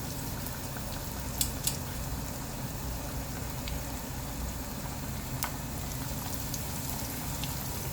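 Faint, steady bubbling and light crackling of hot cooking oil in a pan ready for frying, with a few sharp tiny pops scattered throughout.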